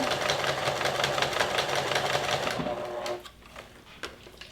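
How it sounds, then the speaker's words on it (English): A sewing machine stitches a five-inch straight seam on fabric for coasters, running fast and steady up close for about three seconds before stopping, followed by a couple of light clicks. "And sew this 5-inch long straight seam."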